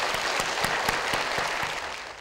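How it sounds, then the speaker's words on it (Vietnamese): Applause for a game show contestant, a brief burst of clapping with a few distinct sharp claps standing out, moderately distant and fading slightly toward the end. "tôi vẫn mong quý vị và các bạn dành một tràng vỗ tay thật lớn cho bạn Hợp"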